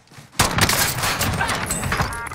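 Video game gunfire erupts after a quiet start, a dense, loud burst of rapid shots and impacts that continues without a break.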